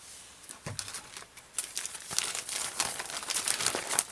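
A plastic Sega bag is crinkled close up, with sharp rustles and crackles coming in irregular bursts that grow busier toward the end, and no one speaks.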